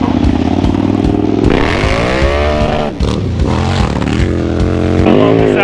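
Ford Mustang engine roaring close and loud, rising and falling revs with a rough rumbling note that holds steady to the end, and faint voices underneath.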